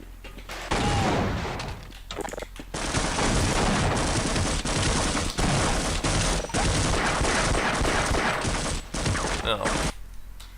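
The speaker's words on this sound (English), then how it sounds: "It's not that guy who's firing the grenades though." Grenade launcher fire and dense gunfire in a multiplayer shooter video game, a loud continuous barrage of shots and blasts with brief gaps, with faint voices underneath.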